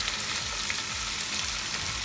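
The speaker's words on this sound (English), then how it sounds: "when you saute it nicely in oil, because there you're sealing the juices very well into this" Chicken sautéing in hot oil on high heat at home for chicken saagwala, a continuous close sizzle and crackle with no talking over it.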